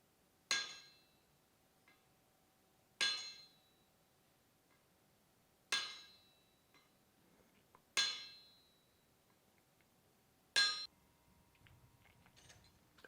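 A hammer strikes a blacksmith's flatter on metal while finishing an upset head, with five sharp, bright metallic clanks spaced a couple of seconds apart, each ringing briefly before fading into near silence.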